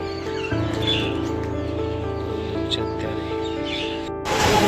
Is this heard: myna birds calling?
yes